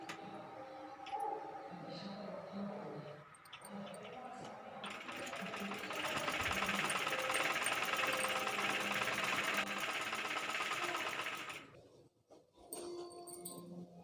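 A sewing machine stitches a strip onto a baby frock, its fast steady whirring running for several seconds in the middle before stopping, while someone talks quietly before and after.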